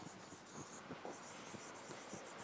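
Pen writing on paper while marking an answer to a biology question, a steady close scratching with short repeated strokes throughout, faint hiss behind and no talk.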